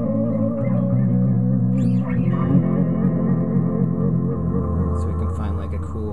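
An Ape Delay effect unit with every setting turned all the way up gives a dense, continuous wash of smeared, repeating tones. It drones and swells steadily at a strong level.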